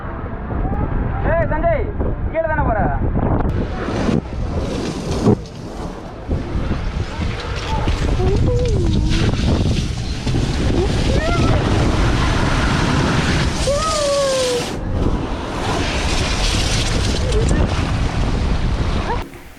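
A two-person water ride in an air-filled tube at VGP Universal Kingdom theme park in Chennai: loud rushing water and wind buffeting the microphone, with voices talking and calling out throughout.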